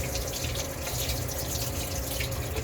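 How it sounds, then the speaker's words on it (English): Water runs steadily from a kitchen tap as a hand is rinsed under it, a continuous close splashing rush without pause and no voices. "I gotta rinse my hand off because I had the aloe on there."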